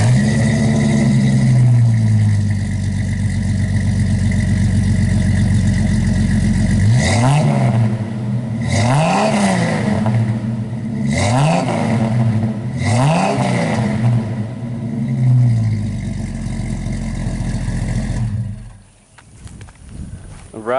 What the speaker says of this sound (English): And we're gonna hear the Classic start up.